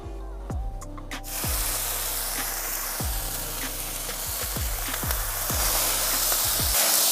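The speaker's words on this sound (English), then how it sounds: "I'm going to go ahead and put my bacon on" Bacon laid on a hot grill sizzles with a steady, building hiss, broken by a run of sharp metallic clicks and taps at irregular intervals, close and fairly loud.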